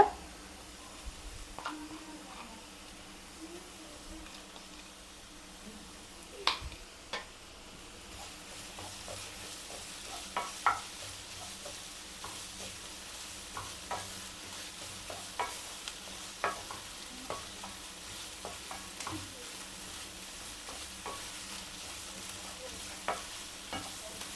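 Onion and ginger-garlic paste sauté in a pan for a squid gravy, giving a soft, continuous sizzle with frequent light scrapes and taps of a spoon stirring, fairly faint and close.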